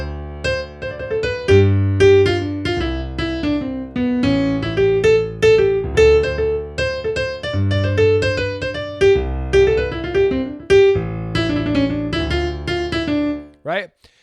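Jazz piano improvisation over chords, a melody line in quarter notes, eighth notes, triplets and sixteenths built from chord tones and scales above steady left-hand chords, clear and close, ending with a brief glissando.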